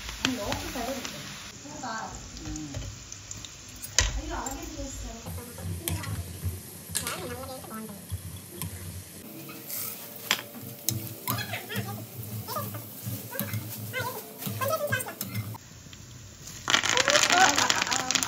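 Crunchy homemade snack mixture tossed with salt and chilli, a close rattling, crackling rustle of dry pieces shifting repeatedly, with someone talking over much of it.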